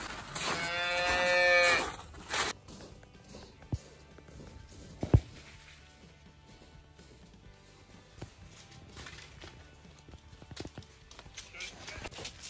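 A single loud bleat from sheep inside a barn rings out near the start, followed by quieter shuffling, hoof knocks and scattered thumps as the animals move about.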